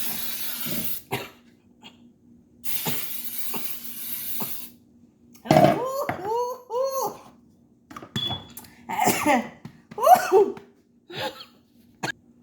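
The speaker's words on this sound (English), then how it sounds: "You're gonna spray and cough" Several sharp, harsh coughs break out mid-clip, clustered bursts with brief pauses between, close by, after a quieter stretch with a hissing spray.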